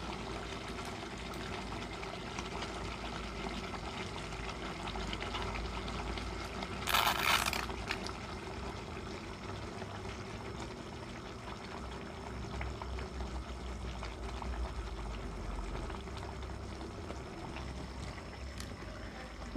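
Chicken simmers in instant coconut milk in a pan, a steady close bubbling hiss that continues for the whole stretch, with one brief louder splash or clatter partway through and no talking.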